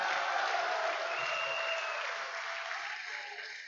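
Crowd at an outdoor political rally in Tambun, Perak, clapping steadily in dense, sustained applause with faint cheering mixed in, holding fairly even and then easing slightly toward the end.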